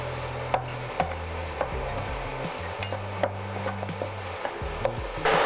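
Carrots are stirred in oil in a pan, giving a light frying hiss with regular spatula taps and scrapes. A low steady tone runs underneath, and nobody talks.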